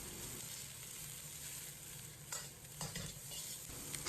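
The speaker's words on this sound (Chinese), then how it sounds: "放入切好的葱段，开大火爆炒，把葱香味炒出" Scallion segments stir-fried in hot oil over high heat in a wok with ginger, garlic and chili, a steady close sizzle with scraping spatula stirs toward the end and no talking.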